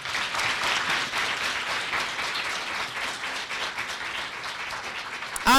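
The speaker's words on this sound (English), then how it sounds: "Let's give the round of applause to both our teams today." A round of applause for two school quiz teams at a secondary school quiz final, with sustained, moderately distant clapping from an audience that slowly thins out before a brief loud sound cuts in at the end.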